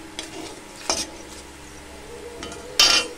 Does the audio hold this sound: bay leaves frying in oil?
yes